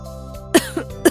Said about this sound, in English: What happened, mother? Why are you coughing?